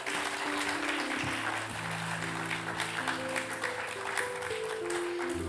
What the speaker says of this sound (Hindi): तालियों की गड़गड़ाहट कम हुई।